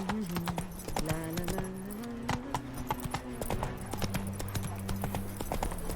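Roach, the horse in The Witcher 3, gallops in a steady clip-clop of hoofbeats that runs throughout, with no talk over it.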